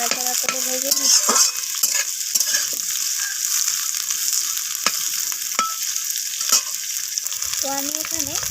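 Drumsticks and bitter gourd stir-frying in a pan, a loud steady sizzle with repeated scraping and tapping strokes of a spatula as the pieces are tossed, no talking.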